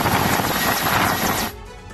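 Indian Air Force Mi-17 helicopter hovering over floodwater during a rescue in Himachal, its rotor chop and engine roar loud and close, dense and steady before dropping away sharply near the end.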